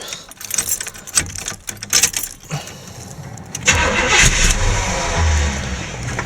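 A car engine is cranked after a few clicks and jangling, then catches and settles into a steady running rumble with a brief throttle blip, close by.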